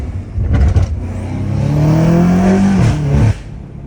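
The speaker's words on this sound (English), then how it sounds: "you can hear the turbo sucking in from the inside" A straight-piped BMW M5 Competition revs up close and loud, its exhaust note rising into a sustained roar with turbo intake whoosh, then dropping away sharply.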